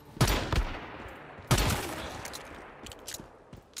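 Pistol shots in the shooter game Once Human: two sharp, loud reports about a second apart, each trailing off into a reverberant tail, with a few fainter pops toward the end and no talk.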